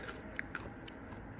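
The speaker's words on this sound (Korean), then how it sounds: "찔레꽃 먹어보겠습니다" Wild rose flowers are being chewed. A few soft, crisp crunches and bites come up close over a quiet background.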